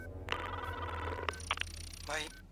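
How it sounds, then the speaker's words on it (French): Opening of the film The Matrix, where a telephone tone is followed by a phone conversation: beeping, ringing tones and electronic chirps sound over a low hum, with faint voices in the background. "Les premières secondes du film, c'est une tonalité téléphonique et ensuite une conversation téléphonique."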